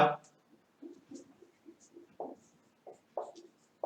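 A pen writes a Sanskrit word on paper during a lesson, giving soft, close scratching strokes in short separate bursts with small clicks between them, all fairly quiet.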